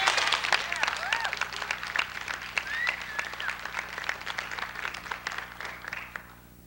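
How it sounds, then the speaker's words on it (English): Audience at a 1989 Drammies theater awards ceremony gives a round of applause, dense clapping with a few whoops that fades out toward the end. "I want to give everybody a big round of applause for doing that."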